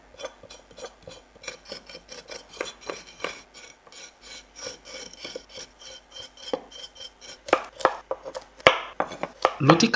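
Taro stolons being chopped by hand for a dish with dried fish, a long run of close, sharp knife strikes on a board, irregular at first and then quicker and louder toward the end.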